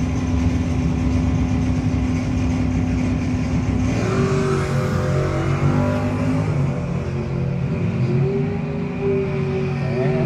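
Drag race between a 1968 Camaro and a Chevrolet S10 pickup, loud engines roaring steadily throughout with rising revving tones as the cars accelerate down the strip.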